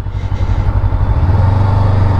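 A Honda NX500 parallel-twin motorcycle runs steady and close, its low, even engine drone holding and building slightly after being shifted into first gear, with no voices over it.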